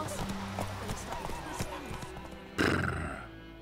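A horse in The Witcher 3 gallops with rapid clip-clop hoofbeats, then lets out a loud, sudden whinny near the end, with someone talking over the action.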